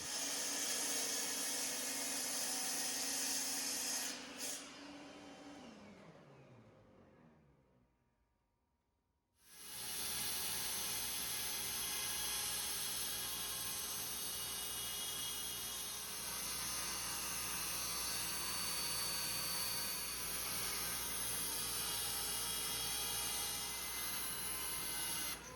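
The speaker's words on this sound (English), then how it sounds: "So I'm going to cut this general shape out and then run this through the planer." A power saw cuts a 1-inch piece of ash timber, then a planer drones, a steady loud roar that fades to near silence before a thickness planer starts up and runs continuously.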